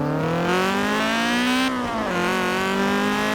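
A Honda Civic Type R's high-pitched engine drones loudly and steadily in Forza Horizon 4, its pitch climbing, dipping briefly, then rising again.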